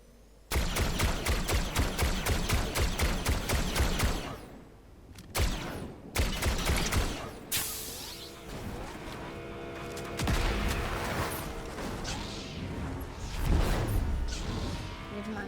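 A rapid burst of automatic gunfire in Fortnite rattles for several seconds, followed by scattered shots, crashes and whooshes of game action, fairly loud and close.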